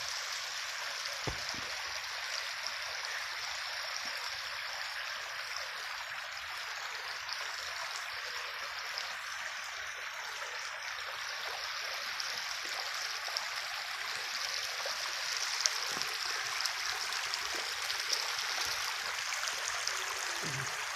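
Rainwater flowing in a stream, a continuous broad rushing gurgle at steady moderate level with occasional small splashes, heard alone without talk.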